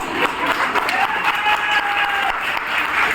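Dense applause from a seated audience at a business seminar, steady and fairly loud, filling the short stretch with continuous clapping and a little crowd noise.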